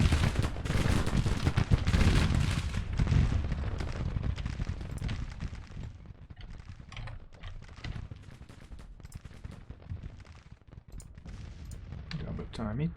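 Gunfire and musket volleys rattle across a Civil War battlefield in the Grand Tactician strategy game, dense crackling shots heaviest at first, then thinning into scattered pops over a continuous rumble.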